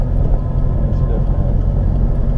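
A Subaru STI accelerates hard in a street race against a Corvette, its engine a loud, continuous low roar with a steady rumble throughout.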